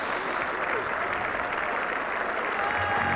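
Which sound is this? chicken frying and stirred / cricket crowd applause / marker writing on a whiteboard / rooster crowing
cricket crowd applause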